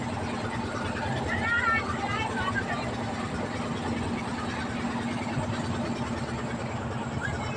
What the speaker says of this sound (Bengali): কাশিমপুর ঘাট থেকে আমাদের নৌকাটা মানে ছেড়ে দিছে অলরেডি